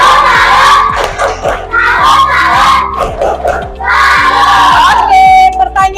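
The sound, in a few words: class of children doing a salute clap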